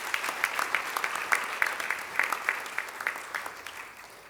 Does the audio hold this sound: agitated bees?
no